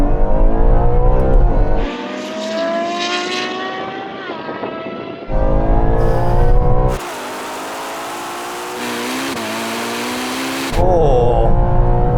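Ferrari 296 GTB, SF90, 812 GTS and Purosangue accelerating hard in a manually shifted rolling race from 30 mph, engines rising in pitch through the gears with abrupt shifts, loud and close, then a quieter stretch before revving again.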